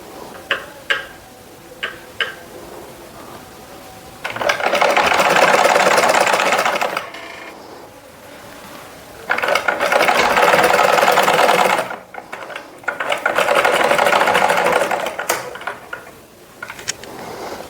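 A sewing machine stitches a neck design in three loud, sustained bursts separated by quiet pauses, with faint clicks and handling sounds between the runs.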